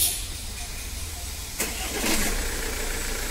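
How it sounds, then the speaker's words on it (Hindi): Tata Harrier diesel engine cranking and catching, a sharp onset about halfway through followed by a steady, moderately loud running rumble. "अब गाड़ी को हम स्टार्ट कर"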